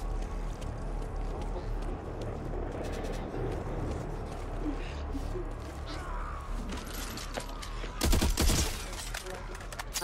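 Bursts of automatic gunfire in the zombie shooter Back 4 Blood, mid-distance rattling volleys against a busy background, with a loud close barrage near the end and players talking throughout.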